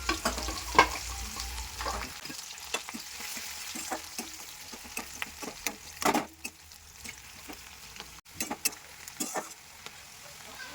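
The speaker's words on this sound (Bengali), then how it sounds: "এবারে আমি দুটো তেজপাতা আর পেঁয়াজটা দিয়ে ভালো করে ভেজে নেব" Onions and bay leaves fry in hot oil in a pan, a soft steady sizzle broken by frequent sharp scrapes and clacks of stirring, close and fairly quiet with no talk.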